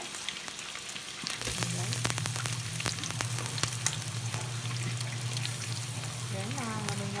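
Onion and garlic hit hot oil in a pan for a saluyot and fish dish, starting quiet, then a loud burst of sizzle that settles into a steady frying hiss under light clinks and stirring; someone speaks briefly.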